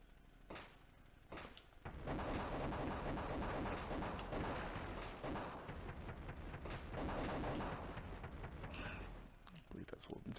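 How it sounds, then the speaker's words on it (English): Gunfire in the 1992 Mega Drive game Desert Strike: dense, crackling bursts of rapid synthetic shots and thuds, loud and sustained through most of the clip after a few short opening pops, with someone talking over it. "I hear gunfire."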